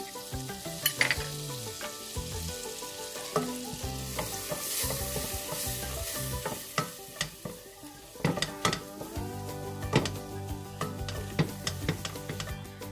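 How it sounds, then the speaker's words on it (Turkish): Steady sizzling as flour roasts in butter and oil in a pan, with a utensil stirring and scraping against the pot at intervals. "Üzerine unu koyalım. Ve un kokusu çıkana kadar kavuralım."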